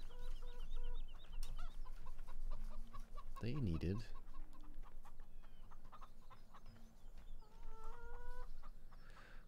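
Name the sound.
chickens clucking in Farming Simulator 17 video game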